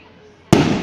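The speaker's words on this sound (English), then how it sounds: "Ah, fireworks. Gotta love them." A single Christmas firework bursts loud and close with a sharp crack, after near silence, its boom trailing off into a rumbling decay.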